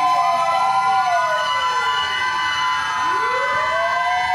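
A fire truck siren wails loudly, its pitch sweeping up and down in repeated cycles as the vehicle approaches a fire.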